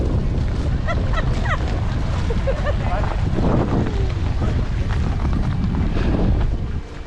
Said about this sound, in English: Columbia Glacier, and the breeze is blowing up here.